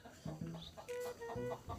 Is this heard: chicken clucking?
yes